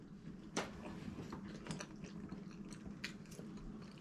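A dog chews cabbage and corned beef close by, with soft irregular wet crunches and smacking bites at a quiet level and no talking.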